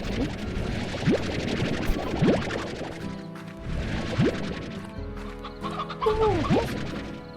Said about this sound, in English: There's chickens over here already.